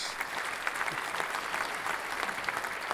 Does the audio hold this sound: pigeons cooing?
no